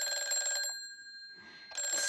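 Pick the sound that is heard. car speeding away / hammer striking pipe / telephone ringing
telephone ringing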